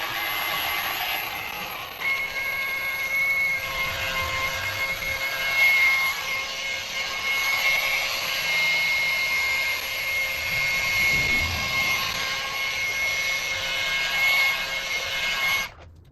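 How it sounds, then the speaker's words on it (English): An orbital polisher with a yellow pad buffing plastic car trim, giving a loud, continuous whine with a steady high tone that wavers slightly as the pad moves, running alone for about fifteen seconds before cutting off. "My first impression is that the polisher is pretty loud, more than I was expecting."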